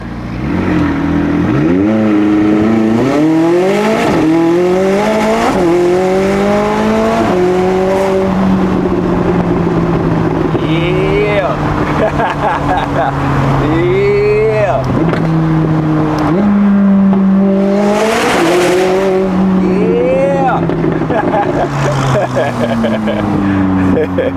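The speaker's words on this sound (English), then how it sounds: "I'm gonna do a little launch right here." McLaren 600LT launching hard from a stop, engine roaring and climbing through several rapid upshifts with rising and falling pitch sweeps, loud and close from inside the cabin.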